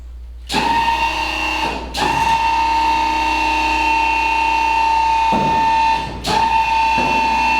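Hydraulic suspension on a customized 1969 VW bus raising and lowering, a loud steady pump whine with a bright tonal hum, broken by sharp valve clicks and pressure releases as the body moves up and down.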